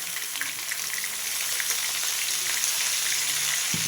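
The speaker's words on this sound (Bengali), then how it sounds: "পটলগুলো একটু ভালো করে ভেজে নেব।" Pointed gourd (potol) frying in hot oil with turmeric, a dense, steady crackling sizzle close up, with faint stirring and a soft knock at the end.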